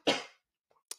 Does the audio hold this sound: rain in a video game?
no